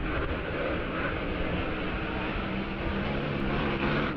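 A hydroplane race boat engine screams at high RPM during a racing lap at Wanganui, a loud, steady, continuous roar with no break across the whole stretch.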